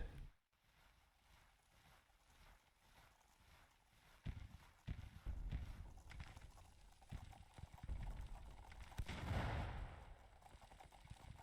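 Cavalry horses' hooves clip-clop at a steady trot in the video game Grand Tactician, amid a rumbling, noisy background that swells toward the end.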